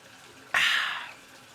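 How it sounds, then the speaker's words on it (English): Hot water gushes into a bathtub in a short, close burst of splashing that swells suddenly and fades out within half a second, with quiet room tone around it. "I got to put some hot water in this bitch and get a drink of water."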